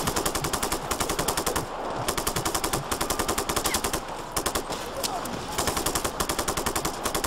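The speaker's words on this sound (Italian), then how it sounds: "Ma contro chi spara quello?" Machine gun fire at a military base in Just Cause 3, heard as sustained rapid bursts in a steady rhythm with brief pauses, close and loud throughout, with occasional voices beneath.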